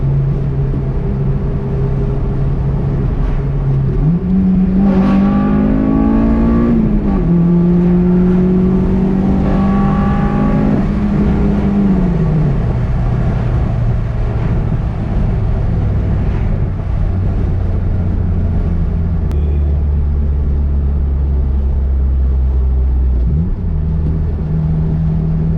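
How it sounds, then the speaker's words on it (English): A 2003 Acura RSX Type-S engine revs hard and loud, its pitch climbing into VTEC in two rising pulls before settling back to a lower, steady drone. "here's another quick showing of VTEC."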